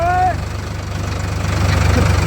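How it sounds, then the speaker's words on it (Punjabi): An old tractor about 32 years old, model 3700, idles with a steady low rhythmic chugging, close and fairly loud, with a voice speaking briefly at the start. "ਟਰੈਕਟਰ ਭਾਈ ਇਹ ਆ ਗੋਗੀ ਕੋਲੇ 3700 ਪੁਰਾਣਾ"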